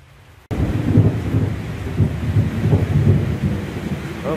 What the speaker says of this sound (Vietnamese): Ủa, bạn nghe sấm chớp thấy ớn không?